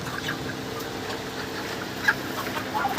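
About 33-day-old broiler chickens on a poultry farm in hot weather make faint, sparse clucks over a low, steady hum of the shed, with no voices.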